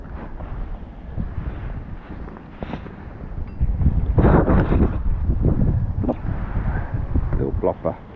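Wind buffeting the microphone at a fishing lake, a low rumbling gust that swells louder midway and keeps gusting unevenly, with people talking faintly underneath.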